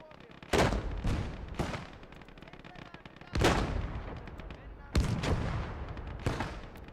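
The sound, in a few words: gunfire in the video game Call to Arms - Gates of Hell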